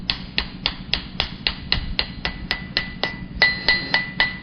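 Light hammer rapidly striking a woven steel handle at the forge, a fast, even series of about sixteen sharp metallic taps, close and loud with no talking.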